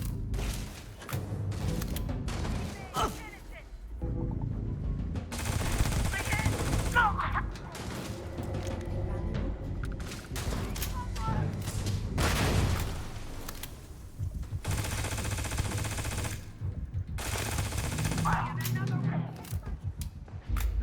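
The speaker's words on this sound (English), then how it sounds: "I'm hearing a fair bit of gunfire" Gunfire in the video game Starfield at the Ecklund Staryards comes in repeated bursts and crackling volleys, some close and some further off, with booms and thuds between them.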